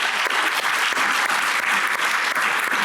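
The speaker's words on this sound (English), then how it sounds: "can we give a round of applause for all the students?" Loud, dense audience applause for students after a memorial science lecture, a continuous wash of many hands clapping close by for nearly three seconds.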